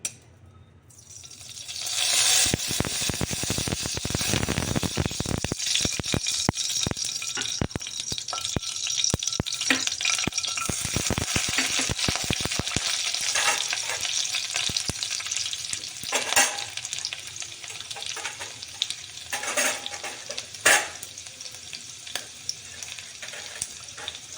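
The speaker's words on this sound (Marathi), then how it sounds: "आता फोडणी देऊया" Loud, steady sizzling of spices tempering in hot oil, with crackles and occasional metallic clinks of a spoon stirring throughout.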